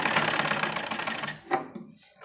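A sewing machine stitching along a one-inch strip of fabric, running in a fast steady mechanical patter up close, then stopping with a final clack.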